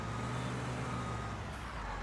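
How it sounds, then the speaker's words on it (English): A truck working on a farm during canola harvest, its engine rumbling low and steady close by with a faint reversing beep in the mix; there is no talking. "Ooh, watch out for the truck"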